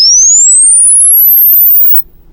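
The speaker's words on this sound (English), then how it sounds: "we listen to a little signal that increases with frequency" A pure sine tone sweeps steadily upward in pitch, a loud, clean whistle that climbs higher and higher, then drops out near the end.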